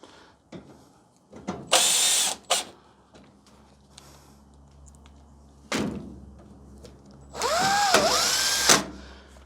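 A power drill drives screws back into a dryer panel in two main bursts of high whirring, separated by quieter handling clunks and knocks against the metal casing.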